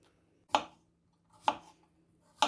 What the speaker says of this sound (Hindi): फ्रेंड्स हम अपना सैलड जो देखें कट कर रहे हैं, प्याज, खीरे, टमाटर और सब्ज़ मिर्चें हम कट करेंगे।